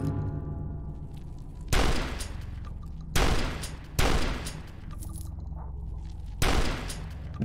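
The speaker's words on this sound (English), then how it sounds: "Dusk shotgun is amazing." Shotgun blasts in the video game Dusk, four loud booming shots spaced irregularly over several seconds, each with a short decaying tail, set against a low game ambience.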